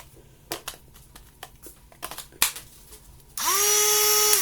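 Clicks and clatter of a battery being fitted come first, then a cordless AliExpress mini angle grinder powered by a screwdriver battery spins up abruptly and runs with a loud, steady, high whine.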